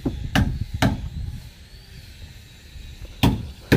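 Hammer strikes ring out on a wooden boat under repair at a fishing-boat dock, a few sharp, loud, separate knocks, two close together, then a pause and another pair, with faint background noise between.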